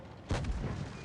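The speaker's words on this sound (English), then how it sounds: "Why is my tank shooting?" A tank cannon in a tank combat video game fires a single short, muffled boom that rumbles briefly, fairly quiet against a low background hum.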